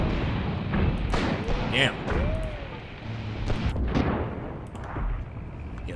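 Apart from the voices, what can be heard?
grenade explosions in WW2 North Africa video game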